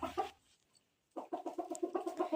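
Hens on a farm cluck close by, first a short burst, then a pause, then a quick run of rhythmic clucks in a steady chatter.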